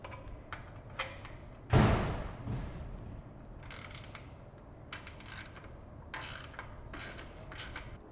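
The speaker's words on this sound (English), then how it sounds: "Using a 10mm socket or an open end wrench, you will remove the two bolts that go to the top of the airbox." 10mm socket wrench ratcheting out airbox bolts on a Janus 250 motorcycle, quick clicking ratchet bursts up close, with a louder knock of metal handling early on.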